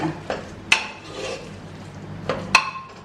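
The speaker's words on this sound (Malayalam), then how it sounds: "നമുക്ക് തവി വെച്ചൊന്ന് ഉടച്ചു കൊടുക്കാം" A ladle mashes cooked lentils in a pot, making a few sharp metallic knocks and scrapes against the pot with softer squelching stirring between them. The sounds are close and irregular, and there are no voices.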